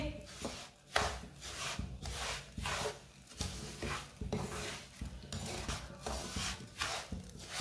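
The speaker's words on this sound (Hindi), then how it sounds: "सब चीजों को अच्छी तरह मिक्स कर लेंगे।" A sweet semolina mixture is stirred in a pan over low heat, giving rhythmic scraping and rubbing strokes that repeat steadily and sound close, with no talking.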